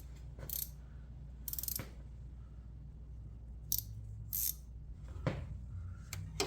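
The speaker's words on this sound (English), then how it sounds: "Try that 12mm ratchet wrench." A 12mm ratchet wrench works a bolt while a Geo Tracker's starter is replaced, giving short bursts of clicking ratchet strokes in several separate spurts over a low steady hum.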